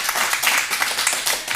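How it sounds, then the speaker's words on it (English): Audience applause at a public town planning board meeting, a steady wash of many hands clapping for under two seconds with no voices above it. "So I am gonna ask the public not to clap."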